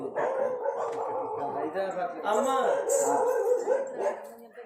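A voice imitates dogs, howling and yelping in wavering, drawn-out cries, close and fairly loud, with a brief spoken word mixed in.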